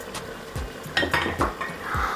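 Chopped onions go into chicken frying over high heat in a kazan, giving a soft sizzle with metallic scrapes and clanks of a utensil stirring against the pot.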